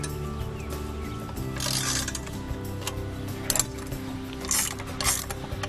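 The legs of a Do-All Outdoors Aerial Assault auto trap's leg base are loosened and pulled out, making intermittent metallic clicks, scrapes and short rattling bursts over a low steady hum.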